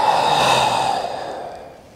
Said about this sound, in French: je souffle quand je monte